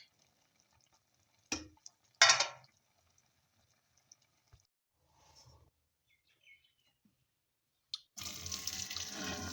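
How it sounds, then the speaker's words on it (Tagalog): Cold tap water runs over freshly cut pasta noodles in a sink, starting after a few brief clatters and knocks amid near silence and then pouring steadily and close at the end. "Now we have to wash this one in running water, cold water."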